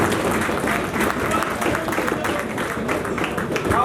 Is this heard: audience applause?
yes